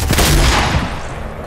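A rapid burst of Fortnite gunfire fills the moment, a loud dense volley of shots with a booming low end that decays over the final half second.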